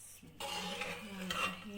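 Cooked mash daal is scooped and served out of a cooking pot, with a spoon clinking and scraping against metal in a short run of close, moderately loud kitchen sounds.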